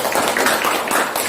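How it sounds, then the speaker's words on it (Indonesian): A classroom of students claps together in a short burst of steady, dense applause with no talking over it. "Tepuk tangan."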